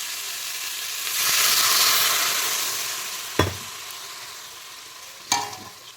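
Fish curry fries in a wok with a bright steady sizzle that swells as water is poured in, then two sharp clanks of a spatula stirring against the metal.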